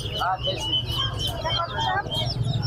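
Local hens with chicks at a busy poultry market in Mirpur, clucking and chirping in overlapping bursts close by, with people talking in the background.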